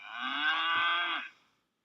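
A cow moo sound effect played during an online English lesson, a single long, clear, low bellow that swells and then fades out.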